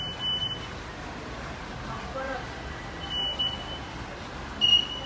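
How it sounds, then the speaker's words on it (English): A students' rain detector model at a taluka-level science exhibition sounds its alarm after a water drop, giving a few short high electronic beeps in separate bursts over a low, noisy hall background. "the sound is coming like an alarm"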